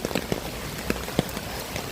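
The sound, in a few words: heavy rain on the road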